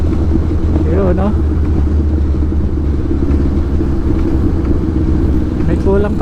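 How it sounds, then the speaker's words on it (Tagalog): A motorcycle engine runs with a steady loud drone and a rattling, clattering mechanical noise from a noisy chain sprocket with missing parts, while someone talks over it. "May kulang pa sa motor ko kaya maingay-ingay pa yung sprocket."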